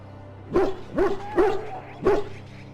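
An injured dog in Dragon Age Origins, set at Ostagar, gives four distinct barks at close range, evenly spaced with a slightly strained, yelping edge, over a quiet background.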